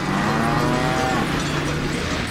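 A cow moos in the Deadpool video game, a single loud, drawn-out low moo over steady background noise.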